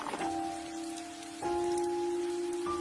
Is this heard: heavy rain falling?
yes